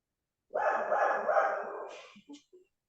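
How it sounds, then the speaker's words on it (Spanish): A small dog lets out a drawn-out whiny bark followed by a couple of short yips, fairly close and alone. "Yo me voy a silenciar porque hay un perrito acá."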